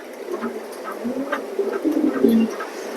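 A male chocolate grizzle racing pigeon coos close by, soft, throaty, rolling calls repeating in short bursts at a loft.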